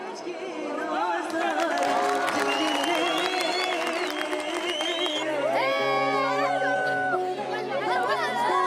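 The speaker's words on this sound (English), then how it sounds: "They are really impressed by the show and give him a huge round of applause" An audience in Turkey reacts to a street performance, with clapping, cheering and excited children's shouts mixed into busy chatter. Rising whistles and calls cut through the crowd noise, which stays loud and continuous.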